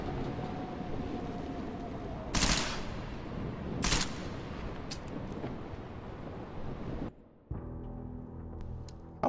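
Gunfire in Deus Ex: Mankind Divided, two loud close shots a moment apart over a busy background of game noise, then a brief drop to near silence before the ambience returns.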